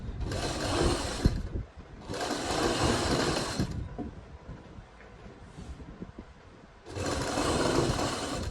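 Sewing machine stitching a fold-down seam along the edge of a suit sleeve, running in three loud bursts of steady whirring separated by short pauses, close up with no talking.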